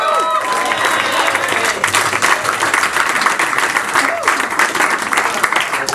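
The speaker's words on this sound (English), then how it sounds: "Can we give a huge round of applause to Jared," A crowd at a graduate music recital applauds three performers. The clapping is loud and sustained and fills the room throughout, with scattered cheers and voices mixed in.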